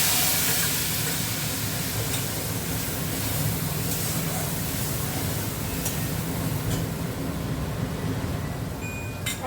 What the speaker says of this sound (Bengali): একদিকে রান্না হচ্ছে, মাংস কষা বসিয়েছি।